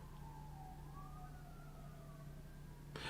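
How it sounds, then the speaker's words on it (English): Police and ambulance sirens wailing outside, distant and faint, with a rising and falling tone over a low steady hum. "I hear like a lot of cops and ambulance."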